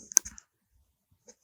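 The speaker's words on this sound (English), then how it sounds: "now what you need to do is just type Scrapy shell here" A few quick keystrokes on a computer keyboard, typing a Scrapy shell command: a short cluster of close, crisp clicks followed by silence and one faint tap later.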